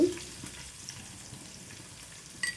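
Onions fry in a pan with about a tablespoon of ginger garlic paste for a brinjal dal curry, a soft steady sizzle close by, with a stirring clatter at the start and again near the end.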